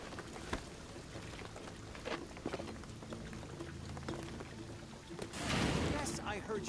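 Rain falls steadily in the video game Shadow of the Tomb Raider, a continuous patter and splash that swells into a louder rushing downpour near the end, with soft background game sounds underneath.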